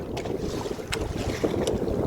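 Wind picking up and gusting over open water around a solar-powered canoe, a rough steady buffeting rush against the microphone with occasional sharper gusts and no talk.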